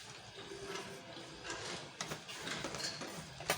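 A Butterfly manual sewing machine double-stitching a ladies' handbag near the D-ring holder, a faint mechanical whirring with soft rhythmic clicks and a few louder knocks, heard alone.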